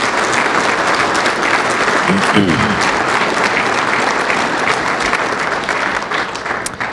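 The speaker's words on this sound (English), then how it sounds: "I would appreciate a round of applause for everyone that made that possible" A large audience at Tupelo's 2018 State of the City address breaks into a dense, steady round of applause that fills the whole stretch, with a brief voice faintly audible beneath it early on.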